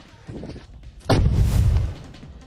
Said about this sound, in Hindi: जोरदार धमाके से तबाह हुआ रूसी टैंक।